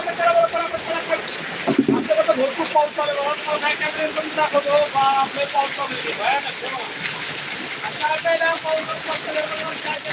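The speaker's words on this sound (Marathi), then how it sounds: "आपल्या इथं खूप जोरात पाऊस चालू आहे" Heavy rain pours down outdoors as a constant, dense hiss of drops that runs throughout, while a person talks over it.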